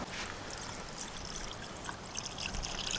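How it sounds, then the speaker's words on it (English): Diesel being poured into a fuel filter on a Nissan D22 with YD25 or ZD30 engine, a faint steady trickle of liquid running for a few seconds with no talk. "we're actually going to fill this up with diesel"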